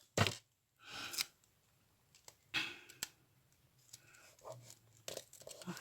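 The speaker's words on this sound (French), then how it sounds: "Et je viens fermer avec du scotch." Sticky tape being pulled and torn to seal a handmade shaker bookmark, giving several sharp ripping and crinkling bursts at irregular intervals, close and fairly faint, with small handling noises in between.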